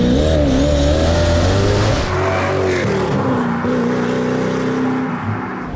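Koenigsegg CCX hypercar with a 1,000 bhp engine revs loudly and close throughout, with a deep, snarling note that rises and falls in surging bursts and carries a brief tire-squeal edge.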